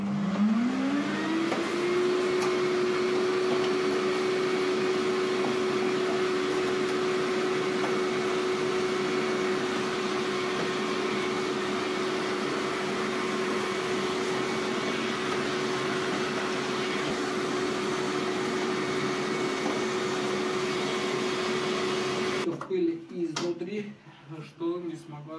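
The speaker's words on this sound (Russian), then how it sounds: "Да, пылесосимся." A vacuum cleaner runs steadily with a high whine and airy rush while cleaning an air conditioner, then cuts out near the end, leaving a few scattered clicks.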